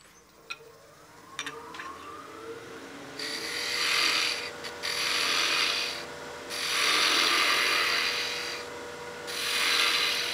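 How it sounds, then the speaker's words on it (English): A spindle gouge cuts a cove beside a bead on a spinning wooden baby rattle on a wood lathe, starting with a few light taps, then several long rasping cutting passes that swell and fade against the lathe's steady hum. "Now I can get my spindle gouge and start cutting my cove to the side of the bead."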